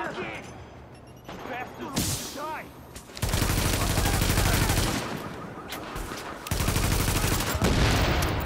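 Bursts of rapid automatic gunfire from a low-recoil gun in The Division, loud and close, firing in long sustained volleys broken by short pauses and a few single shots.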